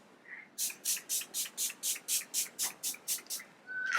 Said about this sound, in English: Another spray on my face.